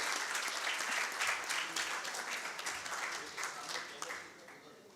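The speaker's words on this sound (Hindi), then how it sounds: "बहुत सारी तालियां, बहुत खूबसूरत कोशिश" An audience at a book launch applauds warmly in a continuous wash of clapping that slowly thins toward the end, heard at a slight distance in an indoor hall.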